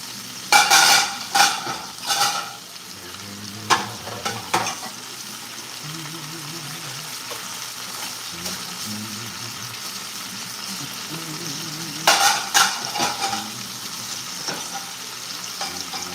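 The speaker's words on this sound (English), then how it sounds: "Try to do some dishes and cook at the same time?" Dishes are washed under a running kitchen tap while food fries nearby: steady sizzle and water flow, with bursts of clattering plates and utensils, close and fairly loud, with no voices.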